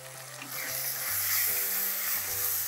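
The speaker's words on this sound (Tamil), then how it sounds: "இப்போ இந்த மசாலா நல்லா வதங்கி இந்த மாதிரி வரணும்." A masala of tomato, turmeric, chili powder and coriander powder sizzles steadily in a pan for sunda masala, a continuous close frying hiss with faint low tonal hum beneath.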